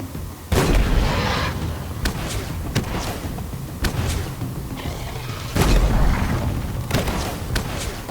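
Weapon fire in Halo Infinite, with loud repeated booming shots and thuds at irregular intervals over continuous battle noise.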